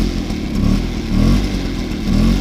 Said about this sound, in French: juste pour le fun, je fais un petit démarrage